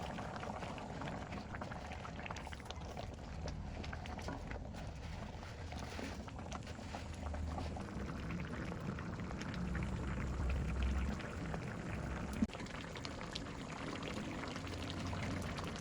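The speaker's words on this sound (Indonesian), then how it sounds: "Tunggu hingga mendidih sampai airnya berkurang dan jangan lupa diaduk-aduk." Sambal simmers and boils down in a pan, a steady, quiet bubbling and sputtering hiss that continues evenly throughout with faint scrapes of stirring and one small click near the end.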